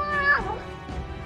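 A single cat lets out a clear, drawn-out meow, close and fairly loud, sliding down in pitch and trailing off over a low background hum.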